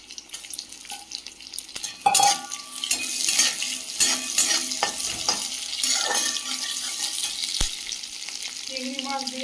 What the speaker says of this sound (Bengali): দিয়ে দেবো কুচিয়ে রাখা পেঁয়াজ আর রসুন